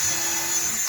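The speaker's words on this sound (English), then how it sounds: "Drill your hole in it." A power drill bores a pilot hole into a wooden board for a bench build, giving a short, steady, high-pitched whine that stays loud and close for about a second.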